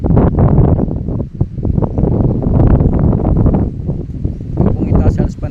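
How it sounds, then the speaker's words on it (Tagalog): Strong, cold wind buffets the microphone near windmills on a hilltop road above the coast, roaring steadily under continuous talk. "Napakalamig, sobrang lamig, lakas ng hangin."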